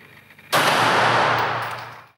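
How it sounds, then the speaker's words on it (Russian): A single loud, sharp shot from a Makarov pistol cracks at a 25-metre indoor shooting range, followed by a broad, booming echo that rings through the room and fades over more than a second. "Все без исключения выполняют дисциплину из пистолета Макарова."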